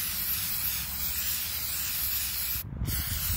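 CRC throttle body cleaner is sprayed onto the throttle body of a Nissan 2.5 liter QR25DE engine, a continuous loud aerosol hiss that briefly cuts out near the end before resuming.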